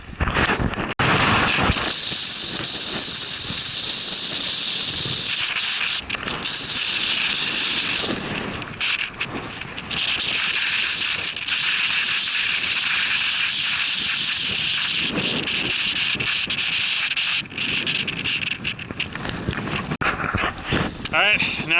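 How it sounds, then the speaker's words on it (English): Strong gusts buffet the microphone on a mountain section of the Appalachian Trail, a loud, continuous roar of wind with brief dips that runs the whole time. "It's windy as holy hell"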